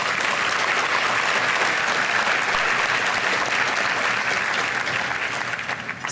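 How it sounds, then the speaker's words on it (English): A large crowd at an annual charity luncheon claps loudly and steadily, a dense wash of many hands that holds throughout and eases slightly at the very end. "give yourselves a round of applause"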